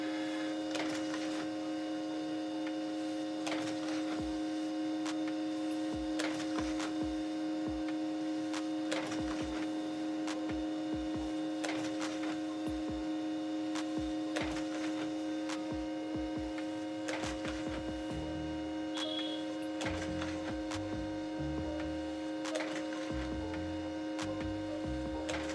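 A Pantum 6518 printer runs a copy job over a constant mains hum, its mechanism ticking and clicking at regular intervals close by.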